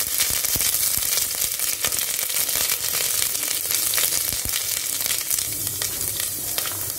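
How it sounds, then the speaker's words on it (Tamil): Finely chopped ginger hitting hot oil where mustard seeds have already popped, a loud, dense, continuous sizzle and crackle up close with scattered sharp pops throughout. "இப்போ நம்ம வந்து இந்த பொடியாக கட் பண்ணி வச்ச இஞ்சி போட்டுக்கலாம்."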